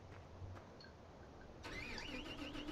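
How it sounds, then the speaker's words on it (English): A tractor engine in a farming game cranks and catches partway through, after a quiet hum, then settles into a steady mid-pitched running drone with whining tones, no talk. "I got to get this other tractor going."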